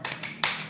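A teacher's 'tepuk semangat' clapping chant in a classroom, a few quick hand claps close by with no voice over them.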